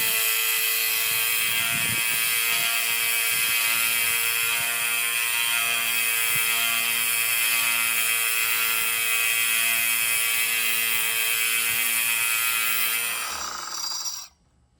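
A fillet knife blade being sharpened on a sander, giving a steady, loud grinding whine that runs unbroken for about thirteen seconds before cutting off abruptly.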